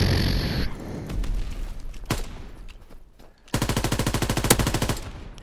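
Call of Duty gunfire on PS4, with a few scattered shots and then a sustained rapid automatic burst, loud and close, with no talk over it.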